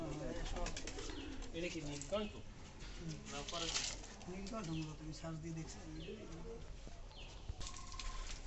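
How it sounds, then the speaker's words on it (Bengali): Pigeons coo continuously in overlapping low, rolling calls at a pigeon farm, close and layered, with other birds faintly mixed in. "এখানে কবুতরের খামার"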